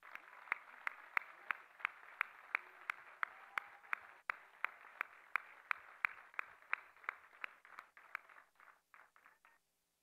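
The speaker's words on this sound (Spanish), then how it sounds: "Les pido un aplauso por ese extraordinario esfuerzo." Faint, distant audience clapping at a political gathering, falling into a steady rhythmic beat of sharp claps that thin out and die away near the end.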